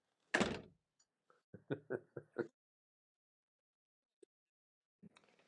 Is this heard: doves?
no